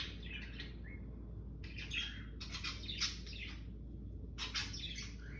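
Amazon parrots squawk and chirp indoors in several short bursts, fairly faint over a steady low hum, with no talking.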